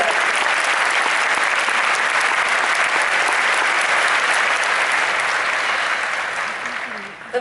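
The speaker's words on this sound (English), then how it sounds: "Let's give them one more round of applause." At the ACTFL 2017 language teaching conference, an audience gives a long, thick round of applause that holds steady at full strength, then thins and trails off over the last second.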